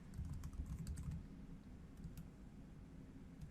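Steady typing on a computer keyboard while a password is entered into IBM Maximo connection settings, the keystrokes rapid and close, with no talk.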